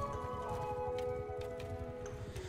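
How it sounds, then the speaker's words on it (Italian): Mounted horse archers gallop across a Mount and Blade II: Bannerlord battlefield, producing a dense, continuous patter of many hooves at moderate volume under a steady game ambience. "Arriveranno prima con gli arcieri a cavallo"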